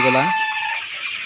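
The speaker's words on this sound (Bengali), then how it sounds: "2 মাসের অরিজিনাল ফার্মি ডিম উৎপাদনের জন্য যে মুরগিগুলো" Two-month-old egg-laying farm chickens give a loud, close squawking cluck that breaks into a strained, high call, with no other sounds around it.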